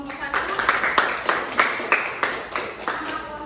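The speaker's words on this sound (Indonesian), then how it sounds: "Beri tepuk tangan untuk kelompok 1." A classroom of students claps for the first group after a food-modification presentation, a modest scattered round of hand claps at an uneven rhythm, close by and fairly quiet.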